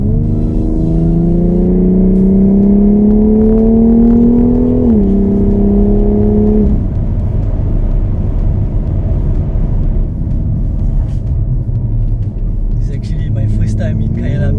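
A 2019 F97 BMW X3 M Competition SUV accelerating hard around Kyalami Circuit in South Africa, its engine note climbing steadily, dropping briefly at a shift, then settling into a lower rumbling drone as people talk inside the cabin.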